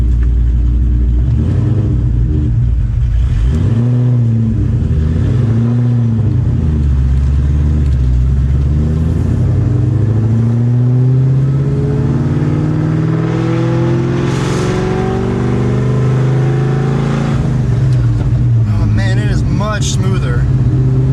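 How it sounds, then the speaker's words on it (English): A car fitted with a Whipple supercharger drives on its first outing, with a loud, close engine drone that rises and falls through several rev swells and a person talking over it. "this is my first drive with the Whipple"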